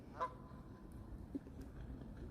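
A single goose on water gives one clear honk early on, followed by a fainter call, set against quiet outdoor ambience.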